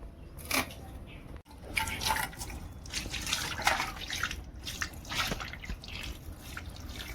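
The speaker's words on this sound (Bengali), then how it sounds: "ভালো করে মাছটাকে ধুয়ে নেব" Hilsa fish being washed under running water, with steady splashing and dripping throughout and a few louder spatters; no speech over it.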